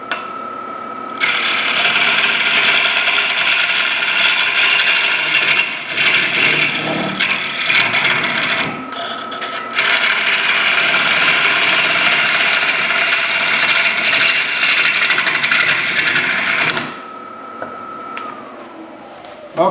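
A wood lathe spins a live-edge maple bowl from a small crotch log, making a loud, steady whirring drone with brief dips. It winds down to a quieter hum near the end.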